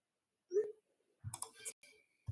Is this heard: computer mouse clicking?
yes